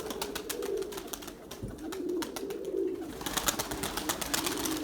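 Several purebred Erzurum white pigeons give repeated throaty coos nearby, in a rising and falling rhythm, with sharp fluttering and clattering growing louder toward the end.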